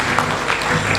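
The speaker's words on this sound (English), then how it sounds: "Can we give a round of applause?" A brief, steady wash of clapping from a crowd, fairly loud and even for about a second.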